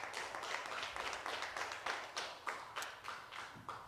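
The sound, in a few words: applause in church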